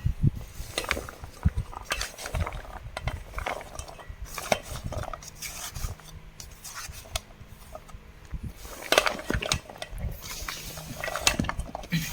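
Rock salt goes into a vessel of mango pickle, heard as irregular gritty rattles, scrapes and clinks of a utensil against the vessel, with louder clusters of knocks spread across the stretch.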